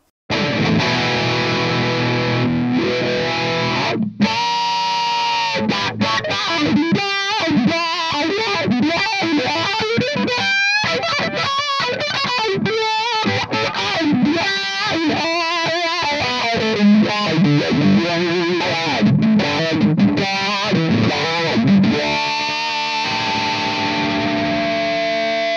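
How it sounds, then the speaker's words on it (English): Heavily distorted electric guitar through a Morley 2020 Wah Lock pedal in wah mode, a loud continuous run of riffs and bends with pronounced sweeping vocal-like filter swells and a little echo, no talk. "Now let's hear the whoa mode with a lot of gain."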